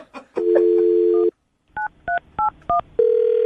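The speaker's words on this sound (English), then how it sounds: "I'm going to dial the phone number right now" A telephone being dialed: a steady dial tone, then a quick series of four separate keypad beeps, and then a new steady tone as the line connects. The sound is clear and close, with no talking over it.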